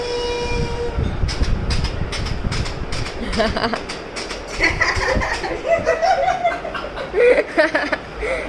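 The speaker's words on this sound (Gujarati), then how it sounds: "ખાલી ટ્રેનનો અવાજ જોવો" A train clatters close and loud in a rhythmic run of sharp knocks, with tonal horn-like notes and some background voices and chuckling.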